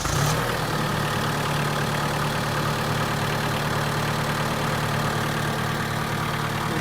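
A diesel engine, just started after its glow plugs warmed, settles into a steady, loud idle. The low, even rumble and hum continue unbroken from start to finish.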